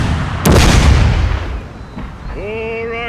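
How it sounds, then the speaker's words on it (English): One loud, close artillery blast booms and rumbles out during a Total War cinematic battle between British and Zulu forces at Kambula, followed by a fainter distant thud and a rising whine-like tone. "the artillery opened fire to cover their retreat"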